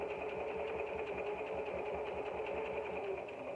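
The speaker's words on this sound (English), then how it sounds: "And I'm just stitching." A sewing machine runs steadily as it stitches through felt, a continuous mid-pitched mechanical whir with no break and no talking.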